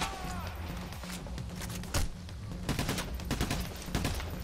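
Rapid gunfire in the heist shooter Payday: The Heist, with bursts of automatic fire and scattered single shots rattling through a busy, dense mix of clattering action.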